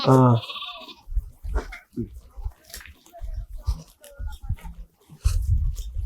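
A flock of sheep and lambs on a sheep-breeding farm bleats close by at the start, with a sharp, wavering call, then fainter animal sounds continue under steady conversation.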